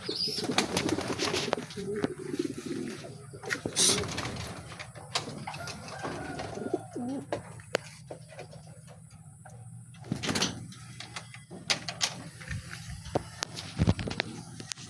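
Racing pigeons arriving at a training loft after a training toss from San Joaquin, Iloilo, with scattered bird calls and sharp clattering knocks from the loft amid steady outdoor background noise.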